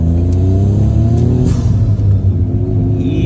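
Custom car with a homemade muffler, its engine idling and revving in a deep, steady rumble up close, the low throbbing note swelling and easing slightly through the stretch with no talk over it.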